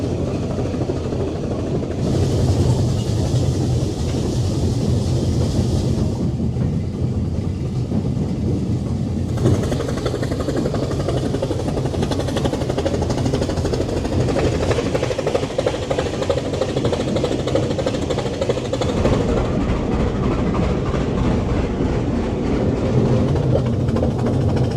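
A steam locomotive train on the Brienz-Rothorn mountain railway in Switzerland rumbles steadily and loudly throughout, its continuous rolling roar and faint clatter close by, with no talking.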